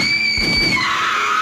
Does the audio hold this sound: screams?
yes